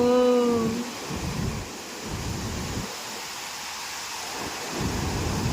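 Steady cyclone rain hisses with a deep rumbling undertone, pulsing in waves, near a dam full of water; a short voice sounds at the very start.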